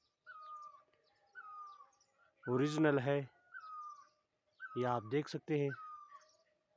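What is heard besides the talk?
birds singing in a mountain forest in the morning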